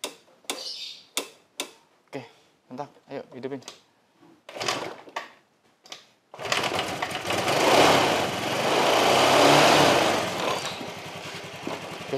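A carbureted Honda Vario scooter with a bogging, fuel-hungry engine and unsteady revs opens up into a loud, sustained roar that rises and dips, after several seconds of sharp clicks mixed with people talking.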